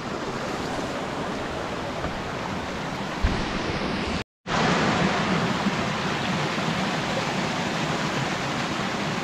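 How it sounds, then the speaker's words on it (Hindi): A small waterfall near a village picnic spot flows in a continuous broadband rush of falling water that is steady and fairly loud. A brief dropout interrupts it near the middle, and no one speaks. "ये दोस्तों नीचे वाटरफॉल यहीं से बनती है यार"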